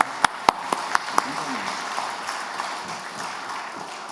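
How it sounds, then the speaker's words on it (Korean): Church congregation applauding during a Sunday service retirement ceremony for a deacon, with several sharp claps at the start that fade into a soft, sustained patter of clapping in a reverberant hall. "큰 박수로 한번 축하해 드리겠습니다."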